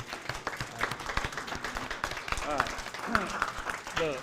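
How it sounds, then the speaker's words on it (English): Audience at a Henderson County Schools board meeting claps in a short round of applause for a Hall of Fame inductee, moderate and somewhat distant, with voices and cheers mixed in. "round of applause"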